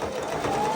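A sewing machine runs steadily, stitching along the edge of a pink robe hem in one short, continuous whir with no voices.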